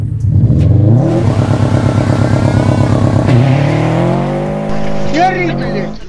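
Subaru Impreza WRX STI with a custom dual-mode exhaust revs hard, a loud close rasping engine note climbing and falling in pitch, with someone talking over part of it.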